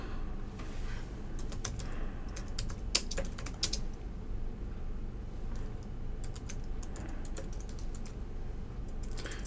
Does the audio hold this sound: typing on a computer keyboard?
yes